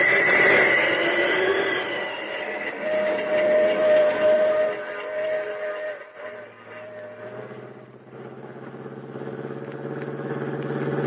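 The Pacific Flyer steam train runs along with a steady rumbling drone, a long whistle-like tone sounding over it, its engine note shifting and dropping partway before building again.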